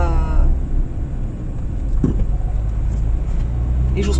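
A car is driven hesitantly, with a low steady engine and road rumble heard from inside the cabin and a brief clunk midway.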